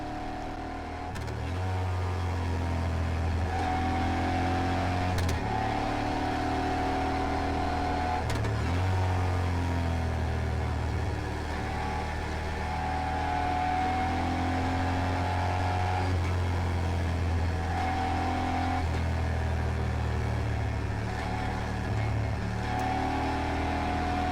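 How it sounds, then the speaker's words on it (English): A steady Moto Guzzi Griso motorcycle engine hum with low rumbling tones that rise and fall gently, cruising at moderate speed through a neighborhood, with no talking. "Cruising through the neighborhood, the Griso is not loud"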